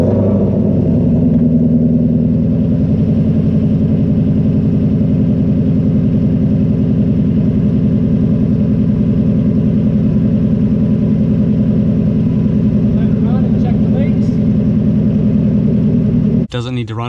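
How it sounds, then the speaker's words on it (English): A Ford Mustang GT350 engine runs at a steady, loud idle with a deep, even rumble that holds unchanged from start to finish, close to the microphone, ending in a brief clatter. "So now we're going to start the car."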